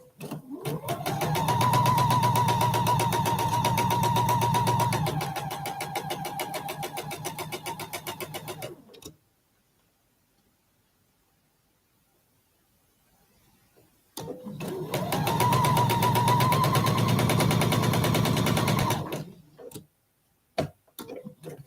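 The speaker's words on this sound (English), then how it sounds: "I'm going to sew a 1/4 inch from each side of the line" A sewing machine stitches a quarter-inch seam on a quilt block in two separate bursts, each a steady mechanical whir lasting several seconds, with a pause between them and a few brief clicks near the end.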